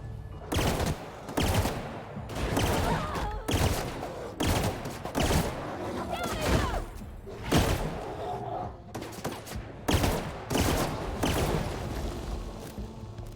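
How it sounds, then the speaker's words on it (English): Assault rifle fire in The Outer Worlds rattles out in repeated bursts of sharp shots across a firefight, loud and close, with brief gaps between volleys. "See how well the assault rifle works for you."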